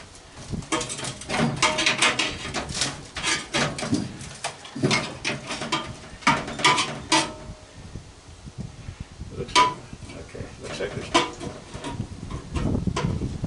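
An old microwave casing is pried apart by hand, with irregular close scraping, creaking and clicking of metal and plastic coming in clustered bursts with brief pauses, no voices over it.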